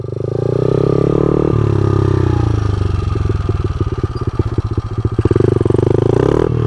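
Dirt bike ridden on the street, its engine droning loud and close, dropping to a rapid, uneven thumping idle-like pulse midway before picking up again at the end, with no talking.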